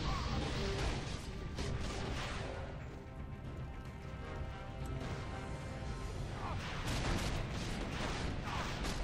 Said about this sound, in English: And also just all the explosions is no joke either.